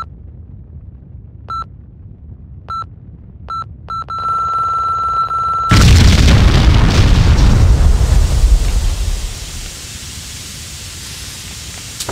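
Bombs going off in Max Payne 2, preceded by a series of short electronic beeps that turn into a steady tone, then a sudden loud roaring explosion that rumbles and fades over several seconds.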